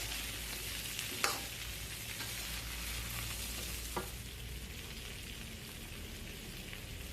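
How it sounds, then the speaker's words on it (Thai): Fried shrimp stir-fried in a hot pan with sautéed aromatics, for Thai salt-and-chili shrimp, giving a steady close sizzle throughout with a couple of brief sharp clinks of a utensil against the pan. "มาผัดนะครับ เสร็จแล้วใส่กุ้งนะครับ ที่เราทอดไว้นะครับ"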